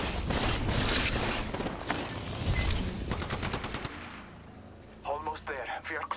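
Rapid bursts of video game gunfire crackle loudly through the first four seconds during a squad firefight in a battle royale match, then fade as a voice talks over the quieter end.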